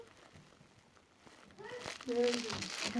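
Paper crinkles and tears as a tightly wrapped gift package is pulled open, starting soft and growing louder and busier toward the end, with a voice chiming in over the rustling.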